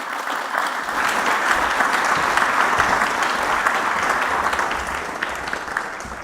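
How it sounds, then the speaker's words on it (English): Sustained audience applause at a Nordic army summit panel, a dense steady wash of many hands clapping that swells in within the first second and holds evenly to the end. "please give him a warm applause"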